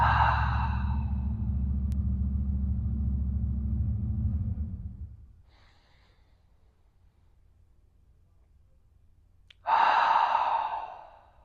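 Breathing during a hip mobility and squat routine: a long, steady breath out fades into near silence, followed by a brief, soft intake of air through the nose.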